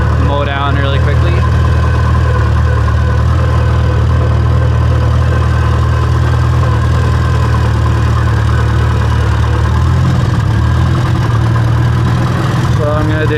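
A Farmall tractor engine runs at a steady idle close by, a loud low throbbing drone that dips and shifts near the end, with someone talking over it.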